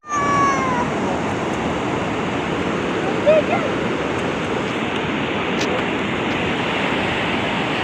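Sea waves wash steadily onto the beach at Seaview, a loud continuous surf roar with no pauses or speech.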